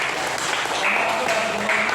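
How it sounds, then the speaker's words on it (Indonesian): Classroom group clapping after a presentation during a teaching practice session, a short burst of applause with voices talking over it. "Tepuk tangan."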